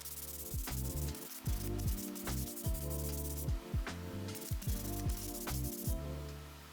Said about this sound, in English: I hand sanded the roundovers to clean up any router marks